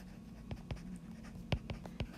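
A pen scratching on a board during a statistics lecture, in short separate strokes: a few quick marks, a pause, then several more, fairly close and fairly quiet, with no talking.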